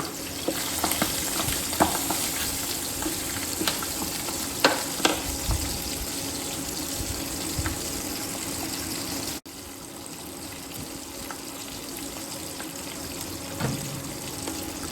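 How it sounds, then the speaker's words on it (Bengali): Steady, dense sizzling of pabda fish frying in hot oil, continuous and close, with occasional crackles and a brief dip partway through. "তাহলে আমার মাছ ভাজা হয়ে গেছে"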